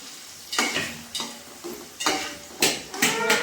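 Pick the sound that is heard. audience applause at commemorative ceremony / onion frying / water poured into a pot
onion frying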